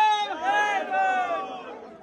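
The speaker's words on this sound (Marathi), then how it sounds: "एकदम खतरनाक अशी गर्दी आहे." Packed crowd at Jejuri temple, a loud close babble of overlapping voices with one person speaking prominently over the steady hubbub.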